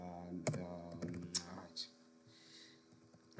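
A few close, sharp computer keyboard clicks while typing in Excel, heard around and under a person speaking, fading to quiet near the end.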